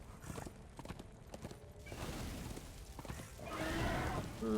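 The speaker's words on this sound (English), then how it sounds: "Alright, I can use my horse in here" Horse hooves clip-clopping in the Darksiders 2 video game, a steady rhythmic trot that builds in loudness over a few seconds, with a brief whinny-like tone near the end.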